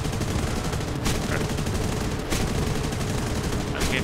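Machine guns of a Reggiane Re.2001 serie 1 fighter plane rattle in sustained, dense bursts during a low-tier air combat game, blending with a constant loud engine roar throughout.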